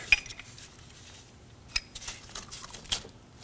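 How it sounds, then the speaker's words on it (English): A 10mm wrench working loose a brake caliper bleeder screw on a 2013-2015 Subaru XV Crosstrek, heard as a few faint metallic clinks and taps spread over quiet background. "Using a 10mm wrench."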